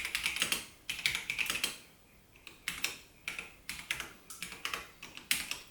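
Typing on a Microbee computer keyboard, close and moderately quiet, with bursts of rapid key clicks broken by a short pause and then more spaced, uneven keystrokes.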